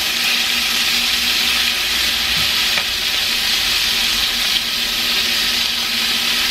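Burger patties for barbecue blue cheese burgers fry in a pan with a loud, steady, close sizzle that runs without a break and has no talking over it.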